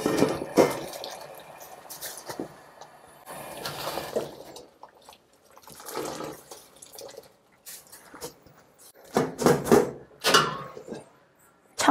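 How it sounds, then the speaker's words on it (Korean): Napa cabbage leaves rinsed under cold running water in a kitchen sink, bursts of splashing and dripping water with handling noises between them, close and moderately loud, no speech. "찬물로 한번 헹궈 올게요."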